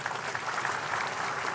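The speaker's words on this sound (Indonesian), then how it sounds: "Tepuk tangan semuanya." An audience applauds at a special military ceremony attended by Indonesian special forces troops, a brief dense patter of clapping from a crowd with no voices over it.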